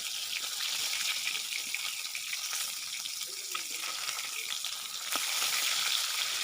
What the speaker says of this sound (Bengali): এক পাশ হয়ে গেলে অপর পাশটাও উল্টে ভেজে নেব